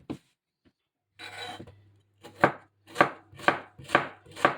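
A knife chops through firm watermelon rind on a board in five steady, evenly spaced strokes, each a crisp crunching thud, close and clear, after a short scraping rustle.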